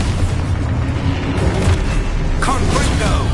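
A magic blast spell going off in the game Hogwarts Legacy, a loud booming burst amid dense, continuous game noise, with a sharper crackling impact near the end while a voice talks over it.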